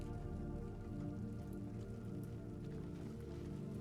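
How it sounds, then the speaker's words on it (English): Steady rain falls over a town in the video game Crisol: Theater of Idols, a dense continuous patter with scattered drips, heard alone with no voices. "Lived in this town my whole life, and I still can't get used to the rain."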